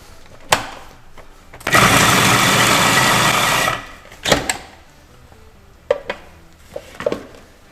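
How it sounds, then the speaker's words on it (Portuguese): A food processor grinds paçoca in a kitchen, running loudly for about two seconds, with a few sharp knocks and clatters before and after. "Enquanto isso a gente vai bater a paçoca."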